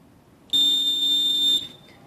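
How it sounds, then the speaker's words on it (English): A Lutron low-voltage wall switch gives a single steady high-pitched programming beep, clear and close, lasting about a second before cutting off into near silence. "push the off and on button again until you hear the beep"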